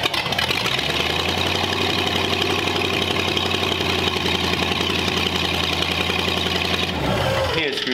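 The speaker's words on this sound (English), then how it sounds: "We got this thing all adjusted for that rowdy engine." A 1937 Ford Flathead engine with major issues runs steadily at a rough, rowdy idle, loud and close for about seven seconds before cutting off abruptly near the end.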